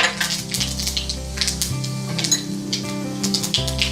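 Mustard seeds and cumin dropped into hot oil on lowered heat for a coconut thuvayal crackle and sizzle, with light clinks of a pan and utensil on top.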